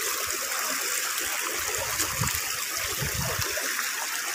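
A forest stream rushes and gurgles just upstream of a waterfall, a loud continuous watery roar with low splashing burbles close by and no talking.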